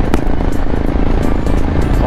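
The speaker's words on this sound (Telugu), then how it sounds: "సైలెన్సర్ వల్ల నా మాటలు వినిపిస్తున్నాయో లేదో తెలియట్లేదు." A motorcycle's silencer and exhaust roar continuously and loudly while riding on a highway around Kurnool, with wind rush mixed in and no clear talk.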